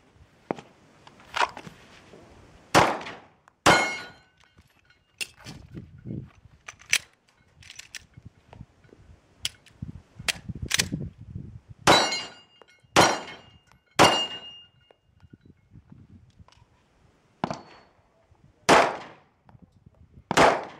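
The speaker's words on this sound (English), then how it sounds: "doing some accuracy testing with the Smith and Wesson M&P Viking Tactics model. We're shooting at about 10 yards, maybe 12 yards" Smith and Wesson M&P Viking Tactics 9mm pistol fired at an outdoor range at about 10 to 12 yards, a dozen or so sharp cracks at irregular intervals, loud and close, with fainter clatter between shots.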